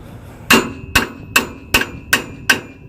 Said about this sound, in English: It takes a couple good whacks to go ahead and get this.